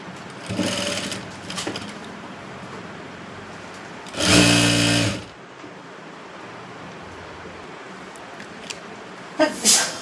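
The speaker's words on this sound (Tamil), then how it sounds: "உள்ளே வச்சு தைச்சிட்டு அதுக்கப்புறம் வெளிப்பக்கமாக வச்சு தைக்கணும்" A sewing machine stitches a blouse back with hooks, a few short whirring runs, one loud sustained burst in the middle and brief bursts at the start and end, close by with quiet gaps between.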